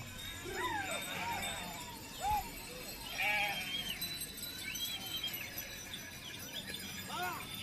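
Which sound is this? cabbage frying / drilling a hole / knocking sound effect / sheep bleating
sheep bleating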